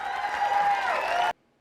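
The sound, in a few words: clapping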